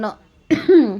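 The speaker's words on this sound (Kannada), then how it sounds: "ಹುಷಾರಿಲ್ಲ ಅದಕ್ಕೋಸ್ಕರನೇ ಕೆಮ್ಮು ಬರ್ತಾ ಇದೆ" A person who is unwell gives one short, harsh cough midway, followed by a voiced rasp of the throat, with a brief vocal sound just before it, fairly close and loud.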